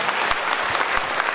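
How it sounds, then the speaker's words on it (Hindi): Audience applause welcoming a guest at a Vestige marketing event, a dense, steady burst of clapping from many hands, loud and close with no talk over it. "एक जोरदार तालियों से स्वागत"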